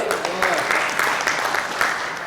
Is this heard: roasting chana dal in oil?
no